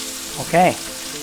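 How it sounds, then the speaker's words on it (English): A ribeye steak searing in a hot pan gives a steady, close sizzling hiss, with a short vocal sound in the middle. "we're going to sear that for about 2 minutes, then we'll go ahead and flip it over"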